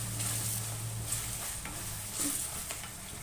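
Hot tempering of garlic, green chilli and cumin sizzles as it is stirred into sambar made with honagone greens, a steady close crackle and hiss of frying oil with a few scraping stirs and no talk.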